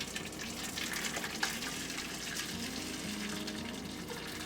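Hot water pours steadily for a cheesecake water bath, a continuous close splashing gush that is fairly soft and even throughout, with no talking.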